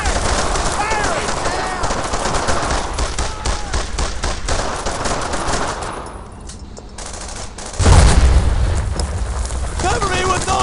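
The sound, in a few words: gunfire from the video game Brothers in Arms: Earned in Blood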